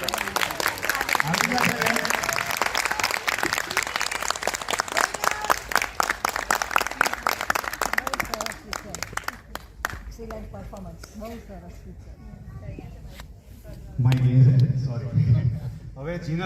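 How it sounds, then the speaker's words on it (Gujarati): Steady audience applause welcoming actress Jinal Belani at a film review gathering, dense clapping for several seconds before it fades out, followed by people talking with a short burst of louder crowd noise near the end. "આપણે એમને તાળીઓના ગડગડાટથી વધાવીશું."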